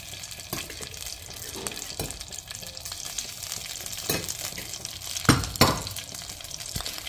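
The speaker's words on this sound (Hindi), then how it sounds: "कढ़ाई में डालेंगे घी, no refined nothing else but ghee." Ghee heating in a kadhai, a steady soft sizzle and crackle with a few sharper pops and clinks, close by.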